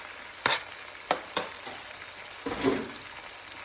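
Potatoes, onions and sausage sizzle steadily in a frying pan for Southern fried potatoes, with a constant hiss broken by several sharp crackles and pops from the hot fat.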